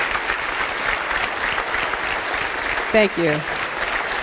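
Sustained audience applause fills the room after a speech in Denmark, steady and dense throughout, with a speaker briefly saying thanks near the end.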